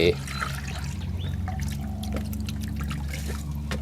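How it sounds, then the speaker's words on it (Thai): Water from a plant pot is tipped into a basin, a steady soft trickle and splash running throughout beneath a low background hum. "เอามาเทใส่กระมัง"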